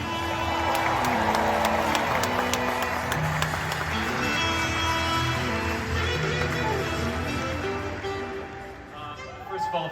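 Crowd at the Disney Legends ceremony applauding and cheering: a dense, sustained wash of clapping and voices that fades toward the end, with a speaker's voice over it.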